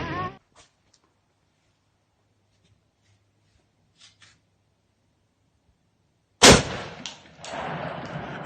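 A Barrett rifle fires one loud, sharp, close shot at an outdoor firing range. The blast is followed by a short echoing tail and a second burst of noise after a long quiet stretch.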